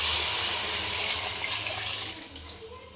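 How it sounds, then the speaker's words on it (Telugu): Chicken stock poured into a rice pot for chicken mandi, a steady rushing splash of liquid that is loud at first and gradually tapers off. "ఆ స్టాక్ మొత్తం వేసేస్తున్నాము."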